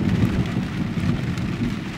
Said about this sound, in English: it's really a heavy, heavy rainstorm out there. A huge thunderstorm just like opened up.